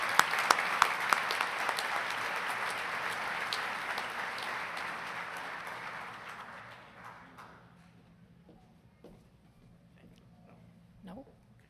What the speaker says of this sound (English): Let's give a round of applause for the 5 Distinguished Alumni Award recipients